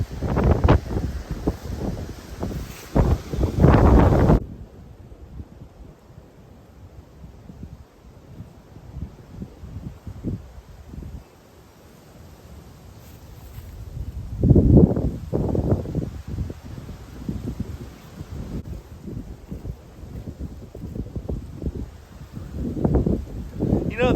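Strong gusty wind blowing outdoors during tent prep, buffeting the microphone with loud rumbling bursts near the start and middle that ease into softer rushing between gusts, with a voice talking at times.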